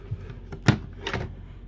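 A drawer slides open or shut inside a 2006 Beaver Marquis Jade IV motorhome, a couple of quick close knocks and a brief rolling rub, with no talking.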